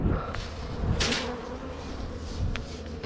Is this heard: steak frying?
no